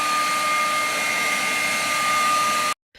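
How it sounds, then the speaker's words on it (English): A DeWalt battery-powered leaf blower clearing leaves off a driveway gives a steady, loud, close whine with a constant airy roar, running evenly and then cutting off abruptly near the end. "Now we'll try out the blower and the leaves in the driveway."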